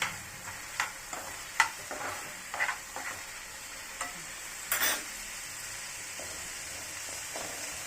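Tomatoes sautéing with a pinch of chili powder in a pan over low heat: a soft, steady sizzle broken by sharp clicks and scrapes of a spoon stirring against the metal, with no voices.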